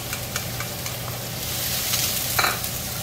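Ginger and green onion stir-fry in a hot pan, giving a steady, close sizzle with soft scraping stirs and a brief louder hiss near the end.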